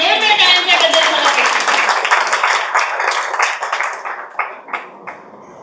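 Audience applause at a Marathi movie music launch event, loud and dense at first, then thinning into scattered individual claps as it fades out.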